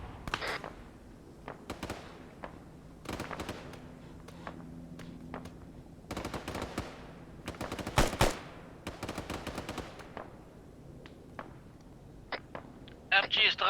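Machine gun fire in the Arma military video game: bursts of rapid automatic shots spread across the clip, some long and dense, some short, mixed with sharper single reports and a faint low hum, with talk between the bursts.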